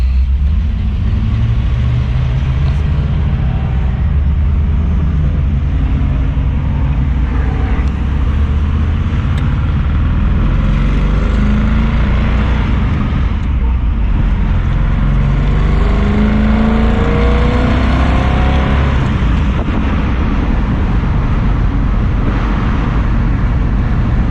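A 1964 Ford Galaxie 500 convertible engine runs steadily and loudly throughout as the car drives, with a continuous low rumble and occasional swells of revving, no talking over it.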